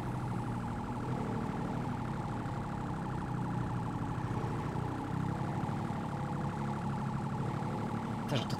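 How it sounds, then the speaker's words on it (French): A police siren in the video game GTA 5 wails continuously and loudly for several seconds with a steady rising and falling tone and no voices. "j'entends ta sirène, c'est insupportable"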